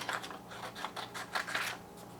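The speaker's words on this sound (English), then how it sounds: "with a pair of scissors, I'm just going to cut these apart" Scissors snip through paper template pieces in a quick run of short, close, crisp cuts, quiet and with no talk.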